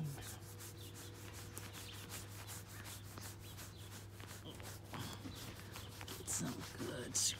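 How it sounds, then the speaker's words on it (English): Rhythmic rubbing strokes of a hand scratching a horse's coat, steady and close, with a low hum underneath. "Get some good scratches in."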